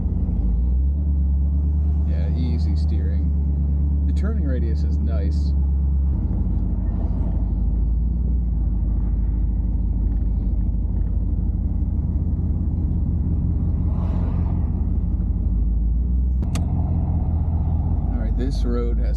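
An old barn-find Buick, left sitting for years, drives up a hilly road, its engine a low, steady rumble that carries throughout while people talk over it.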